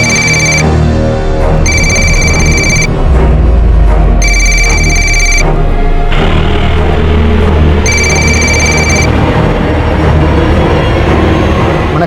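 A telephone rings in repeated bright electronic bursts, three rings separated by pauses, loud and close over a continuous low rumbling background.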